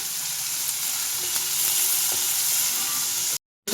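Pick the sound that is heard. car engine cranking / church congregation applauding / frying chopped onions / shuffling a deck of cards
frying chopped onions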